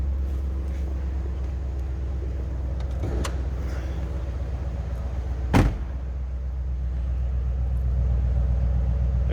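A Roush-supercharged 2007 Ford Mustang Stage 3 convertible with a 4.6 V8 idles at close range, giving a steady, deep exhaust rumble throughout, with a brief sharp knock midway.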